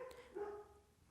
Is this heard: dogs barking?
yes